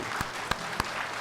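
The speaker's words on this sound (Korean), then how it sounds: "그분들에게 박수 한번 쳐주십시오" Faint applause from a church congregation during a Sunday worship service: a soft wash of clapping with a few sharper, distinct claps standing out.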